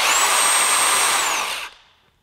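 Two cordless impact wrenches, a Craftsman V20 brushless 1/2-inch drive and a Dewalt, run together with a high-pitched whirring whine, then spin down and fall silent within about two seconds, close and alone.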